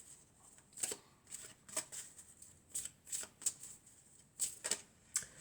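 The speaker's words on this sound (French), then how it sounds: "on va prendre une carte de l'oracle des amoureux" Oracle cards riffled and shuffled by hand, a rapid series of crisp papery flicks and snaps arriving in short bursts, close and fairly quiet with no talk.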